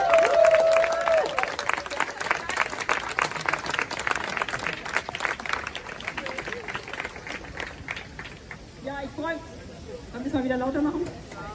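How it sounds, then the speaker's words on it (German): Crowd applause at a Basic Income March rally in Berlin, with dense clapping through the first seconds that thins out as voices and speech take over toward the end. "gebt mal einen ganz großen bedingungslosen Applaus"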